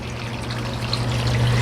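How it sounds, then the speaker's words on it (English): Water gushing steadily from an electric pump draining a pillar, a continuous pouring rush with a low motor hum beneath, close and fairly loud, growing slightly stronger toward the end. "And out comes the water."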